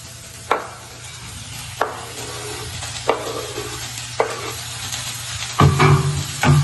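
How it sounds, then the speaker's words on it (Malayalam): Onions sizzle and fry steadily in a pan, with a spoon scraping through them every second or so, then a louder burst of sizzling near the end. "നന്നായി ഇളക്കിയ ശേഷം കുറച്ച് നേരത്തേക്ക് ഉള്ളി വാടി വരാൻ വേണ്ടി വെയിറ്റ് ചെയ്യുക"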